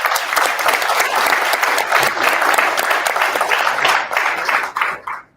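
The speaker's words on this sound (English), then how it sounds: "Can you please give me a round of applause?" A conference audience at a Wikimedia Foundation board session breaks into sustained, loud applause that fills the room steadily for about five seconds, then cuts off sharply.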